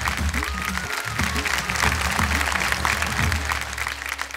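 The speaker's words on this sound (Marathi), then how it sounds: "एकदा जोरदार टाळ्या झाल्या पाहिजे त्यांच्यासाठी" An audience claps loudly and steadily for a few seconds at a kirtan competition stage event, with a crowd murmur under the applause.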